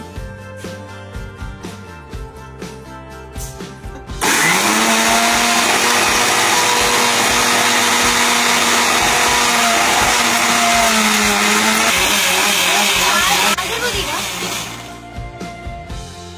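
A kitchen mixer grinder whirs loudly at close range for about nine seconds, with a strained, rising motor whine under the grinding, then winds down. Quieter room sounds come before and after it.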